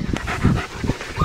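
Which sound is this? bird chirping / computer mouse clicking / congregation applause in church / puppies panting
puppies panting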